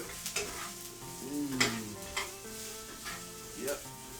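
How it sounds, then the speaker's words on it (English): Scrambled eggs sizzle softly in a frying pan while being stirred, with faint scraping and gentle crackle. The sound is quiet and close, with soft utensil sweeps and small clinks. "Now I'm going to just let these things sizzle in there."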